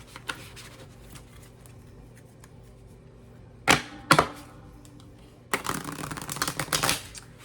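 Playing cards are shuffled in quick riffled bursts, two short close shuffles followed by a longer one, with quiet pauses between.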